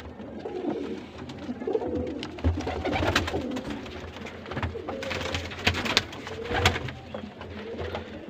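Pigeons coo repeatedly in a loft, with overlapping low, rolling calls from several birds nearby, steady and moderately loud with wing flutters and no talking.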